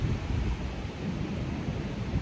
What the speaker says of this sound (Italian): Peccato per l'aria, per il vento.